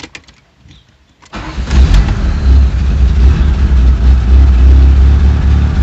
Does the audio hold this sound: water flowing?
no